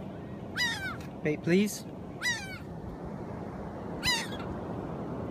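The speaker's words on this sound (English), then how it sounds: "These are the seagulls down here." Seagulls call near the water, with several short, harsh cries spaced apart over steady background noise, and a person speaks briefly between them.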